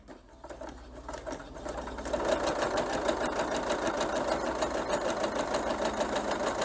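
A sewing machine stitches a scant quarter-inch seam, starting with a few clicks and then settling into a fast, steady, close mechanical chatter that runs without talking.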